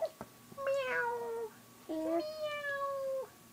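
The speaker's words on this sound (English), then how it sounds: "Cute kitten. He's so playful. Cat. Meow." Two drawn-out cat meows sound in quick succession during a children's bedtime story session, each clear and close, with a short quiet gap between them and no talking over them.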